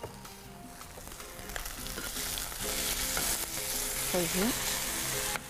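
Chicken frying in a pan for a diet Caesar salad, a steady close sizzle with light stirring, and a voice briefly speaking over it.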